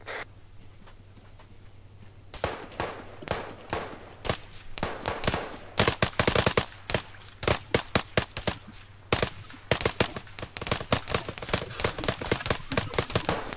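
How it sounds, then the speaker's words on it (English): Heavy gunfire from the Arma 3 video game, with rapid bursts and single loud shots cracking close by in an irregular rhythm, starting after a quiet opening and continuing densely to the end. "Taking fire from the north."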